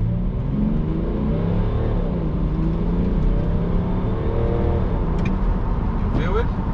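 Inside a BMW X5 E70 3.0 SD with 286 hp and xDrive, the engine pulls hard under acceleration, its drone rising steadily through the gears over constant road and tire roar.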